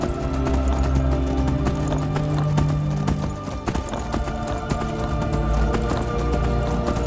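A horse galloping in the video game Skyrim, with loud, rapid rhythmic hoofbeats continuing throughout at close range.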